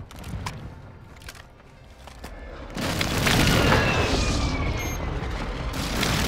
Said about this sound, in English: Airstrike on me.